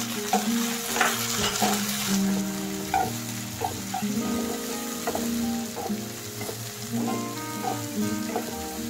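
Onion and tomato sautéing in a pan for a cluster beans vegetable dish, a steady close sizzle with occasional stirring clicks and scrapes, no talking.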